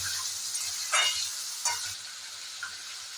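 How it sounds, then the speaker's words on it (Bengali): Chicken pieces for a Bengali chicken curry sizzle in a pan, soft and steady, broken by a few short louder bursts as the meat is stirred and turned. "ভালো করে মাংস কষাতে হবে।"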